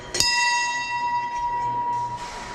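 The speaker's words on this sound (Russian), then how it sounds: "ударить в колокольчик" A small bell at a temple is struck once, giving a sharp metallic ding that rings on as a long, clear sustained tone and slowly fades with no talking.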